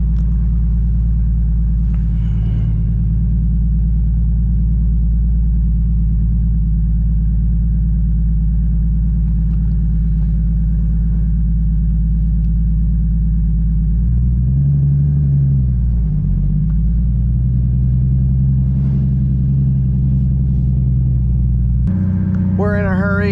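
A 600-horsepower Lexus IS300 sleeper with a compressor, driven gently while warming up, its engine a steady low rumble that swells as it eases into gear, holding a near-constant rpm and staying loud and close throughout.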